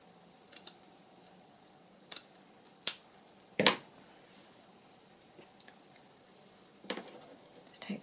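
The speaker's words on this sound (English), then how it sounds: "Just cut a piece off and see how it looks." Scissors make scattered, crisp snips while cutting a piece off paper for a handmade wedding journal cover. The cuts come as quiet, separate clicks spaced several seconds apart in a hushed room.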